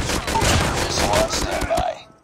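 Rapid bursts of gunfire in a Call of Duty match, loud and dense, with overlapping shots and explosions and game voices mixed in, before fading out at the end.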